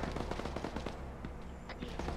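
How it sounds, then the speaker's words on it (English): Rapid bursts of coaxial machine gun fire from a BTR armored vehicle in a military video game, sustained and fairly near, with dense repeated shots and no talk. "I hear, I believe it's coax fire"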